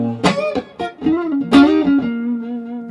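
A budget Telecaster-style electric guitar with dead strings plays a short clean phrase of plucked notes and a bent tone, close and clear with no talk.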